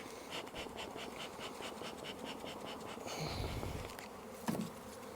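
Honey bees swarm and hum around an open hive box whose frames are mostly empty, a steady close buzz that swells briefly as individual bees pass near, with no talking.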